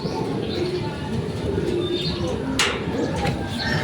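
Young racing pigeons back from a 25 km club training toss coo in a loft, giving low repeated coos among faint chirps and occasional wing flaps, close by under a steady background noise, with brief talking.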